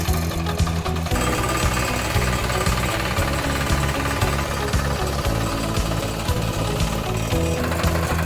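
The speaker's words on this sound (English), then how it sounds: "Gently squeeze the handle to start the machine." A 4.0kW diesel micro tiller at 3600 RPM runs steadily, its engine hammering out a fast, loud, rough chug that continues without a break after a brief quieter start.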